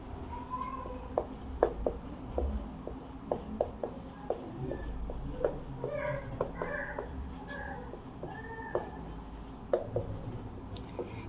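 Marker or chalk scratching across a board while a system of equations is written out, as a series of short, quiet strokes and taps with pauses between them, with low room noise behind.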